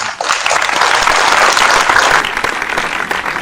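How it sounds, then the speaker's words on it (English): Loud, close audience applause for a panel at a construction inclusion event, a short, dense burst of clapping that swells quickly and holds steady. "So let's give them a round of applause"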